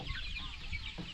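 Chickens cluck close by at a rural field hut during outdoor cooking, with a few short, repeated clucks sounding fairly loud over low background noise.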